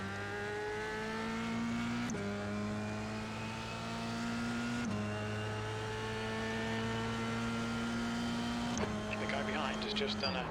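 An F3 race car engine on a circuit in a racing video game, its steady high whine rising through the gears with three clear upshifts breaking the tone, loud and continuous, while a voice talks faintly underneath.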